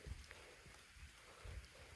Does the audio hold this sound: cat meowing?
no